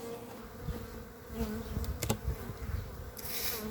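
Honeybees hum in a dense, close swarm around old wooden hives, the buzzing rising and falling as individual insects fly near, with a few light knocks in the background.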